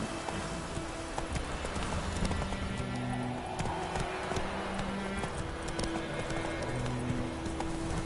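Roach, Geralt's horse in The Witcher 3, gallops with a fast, steady clip-clop of hooves close by, a brief whinny mixed in over soft game music.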